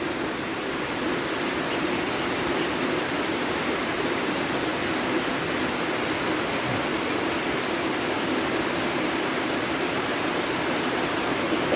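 Steady rain pouring down as an even, unbroken hiss that stays constant throughout, with no voices.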